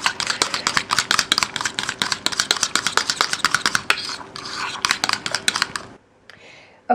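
A utensil beats deviled egg filling in a bowl, making a fast run of sharp clicks and taps against the sides. The run carries on steadily for about six seconds, then stops, and a single knock follows after a short pause.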